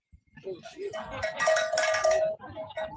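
A bell rings at an Australian farmers' protest rally, a bright sustained tone ringing out for about a second and a half amid crowd murmur and nearby voices, then cutting off.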